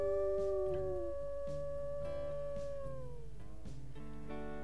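A wolf in the WolfQuest game lets out a long, drawn howl that slowly falls in pitch and fades, laid over a sustained bed of stepping musical tones.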